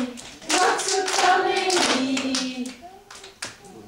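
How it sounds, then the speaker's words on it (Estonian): A group of kindergarten children sings a song in Estonian and claps their hands along with it, the voices loud and close and the claps mixed into the singing. "Koos ja meil olla, koos on ja meil olla, plaksutame nii."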